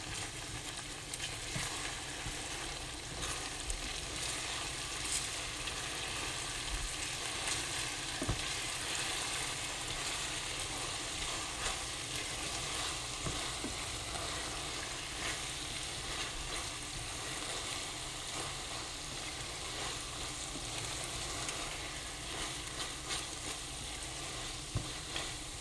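Sliced okra (bhindi) frying in hot oil for a home-style sabzi, giving a steady, continuous sizzle with occasional stirring, moderately quiet and uninterrupted throughout.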